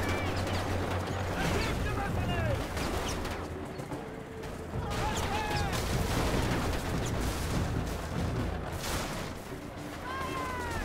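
Gunfire in the Mercenaries 2: World in Flames video game crackles as repeated sharp shots through a dense, continuous mix of game sound effects and background ambience.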